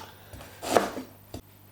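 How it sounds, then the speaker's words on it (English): A knife chops through an onion on a board, one firm cut followed by a second sharper chop in a quiet room. "first job is peel and finely chop the onion"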